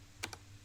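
A quick pair of keystrokes on a computer keyboard while entering a Git command, two close, crisp clicks in a quiet room.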